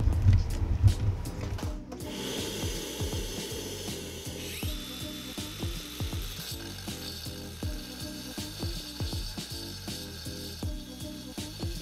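Angle grinder work in a shop with a backdraft dust extraction system running, giving rapid rhythmic mechanical clicking and rattling over a steady whooshing hum of suction, close and fairly loud throughout.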